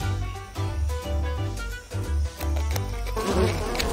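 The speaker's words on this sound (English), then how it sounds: "Bees! They're so angry!" Angry bees buzzing in a close, continuous droning swarm with a wavering, pulsing rhythm, swelling louder toward the end.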